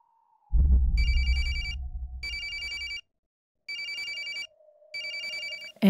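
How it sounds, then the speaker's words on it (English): Cell phone ringing in the Corpse Party video game, a shrill electronic ring in three distinct bursts separated by pauses, clear and close over a faint background tone and a low thump at the start. "Answer the phone."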